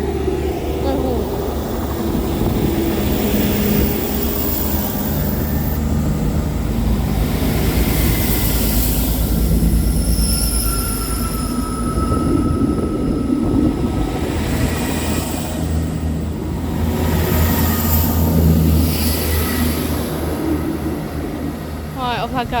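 A train departs from Basingstoke station on the South Western Main Line. Its broad, steady rumble runs throughout at an even, fairly loud level, with faint tonal whines rising over it and some low voices in the background.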